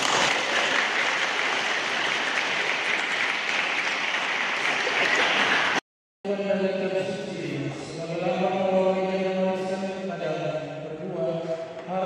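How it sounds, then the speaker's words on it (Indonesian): Guests at a wedding ceremony give a burst of steady applause for about six seconds, then after a brief gap a choir or congregation sings, with voices carrying through the hall. "Mari kita berikan tepuk tangan."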